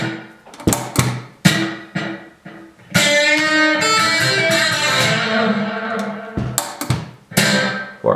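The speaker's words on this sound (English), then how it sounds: "third section is delay." Electric guitar through a Kemper profiler with delay engaged, plucked notes and a strummed chord whose repeats trail off and decay, fairly loud and close.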